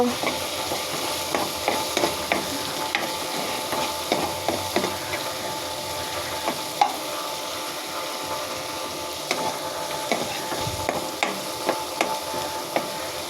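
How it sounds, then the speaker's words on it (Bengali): Whole garam masala spices such as cloves and black pepper being stirred and fried in a pan, a constant sizzle with frequent scraping taps of the spoon. "সব গরম মশলা একসাথে মিশিয়ে রেখেছি। নাড়াচাড়া করে নিব।"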